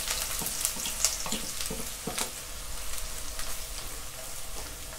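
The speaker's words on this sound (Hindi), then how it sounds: "ऑयल गरम हो जाने के बाद उसमें कटी हुई प्याज ऐड करके फ्राई कर लेंगे" Chopped onions frying in hot oil make a steady, dense hiss with scattered spattering pops throughout, moderately loud and close, with no one speaking.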